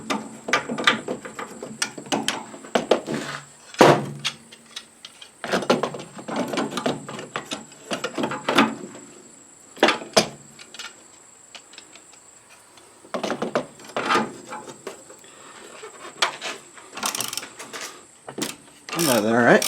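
Ratchet with a 19mm socket turning a strut nut on a 1997 Suzuki Sidekick, bursts of quick clicking pawl strokes close up, separated by pauses and mixed with scattered voice sounds.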